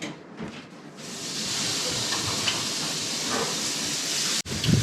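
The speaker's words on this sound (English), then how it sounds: "while those sizzle away" Steady, loud sizzling of burgers frying in a hot pan with the fat strained off, a continuous crackling hiss with no talking.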